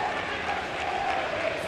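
The stadium crowd at the 2024 Europa League semi-final between Atalanta and Marseille gives a steady, broad roar of cheering that holds level throughout.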